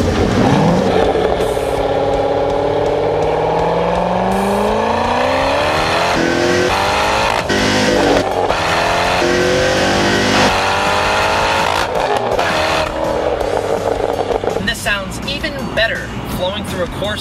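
Corvette V8 with an LS engine and Corsa exhaust revving loudly, rising and falling pitch sweeps through repeated throttle blips, close and continuous, with a voice talking over parts of it.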